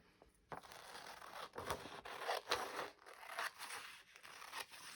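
Scissors snip through paper for a glue book collage, several short close crisp cuts and rustles spaced irregularly, quiet and alone.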